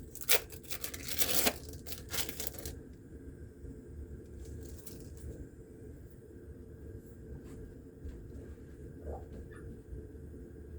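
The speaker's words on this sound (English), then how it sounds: "unwrap your cheese" Cheese is unwrapped from its packaging while making old-style potato soup, with a brief crinkling and tearing of wrapper in the first couple of seconds. Quiet room tone follows.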